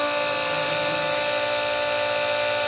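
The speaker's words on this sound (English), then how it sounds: "that noise you hear is that pump running" Electric fuel lift pump running on a Cummins ISX diesel engine, a continuous steady whine with a tonal hum, loud and unchanging throughout.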